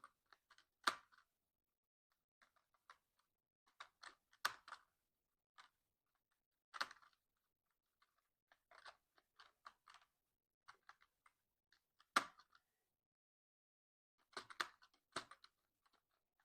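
Typing on a computer keyboard while entering text in a Microsoft Excel spreadsheet: sparse, quiet clusters of key taps in short bursts separated by pauses, close and alone with no talking.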